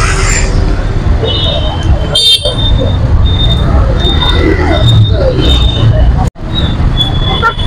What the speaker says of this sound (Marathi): हे हिंजवडीचे ट्रॅफिक